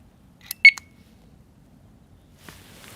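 A Weison DX 26 alarm lock gives a short cluster of close, high electronic beeps, followed by quiet handling noise and a faint later chirp.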